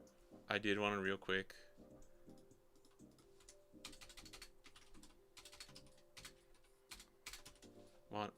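Computer keyboard typing while entering a One Piece card game deck list: several quick runs of light key clicks, quiet and close, with someone speaking briefly before them.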